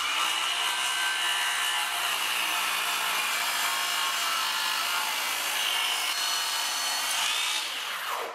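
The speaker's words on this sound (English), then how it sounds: "we've cut out a small sheet of plywood that is 30 inches wide" A track saw rips through a sheet of plywood in one continuous, loud, steady cut that holds for about eight seconds and then winds down at the end, with no talking.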